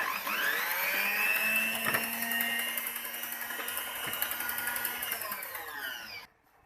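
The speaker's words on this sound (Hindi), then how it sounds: "बिल्कुल हल्का सा बीट करना है।" Electric beater running steadily and fairly loud, lightly whisking brownie batter mixed with Oreo crumbs, its whine holding for about six seconds before cutting off abruptly.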